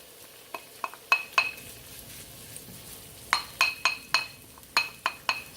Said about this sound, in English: we're going to add the ginger and the garlic into the pan and start to sear this